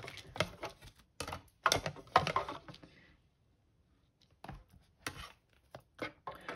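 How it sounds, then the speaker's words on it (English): Stampin' Up! mini stamp cut and emboss machine cranking, a series of close, sharp clicks and crunches in bursts, then a brief pause before more scattered clicks. "So this is our mini stamp cut and emboss machine."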